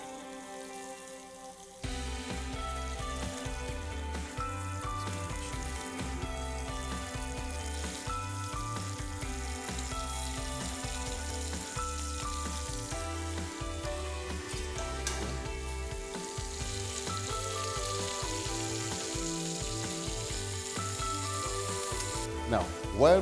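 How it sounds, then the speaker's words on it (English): Fish browning in a frying pan gives a steady, even sizzle that runs throughout, close and constant, with faint background music and no talking. "to brown my fish a little bit"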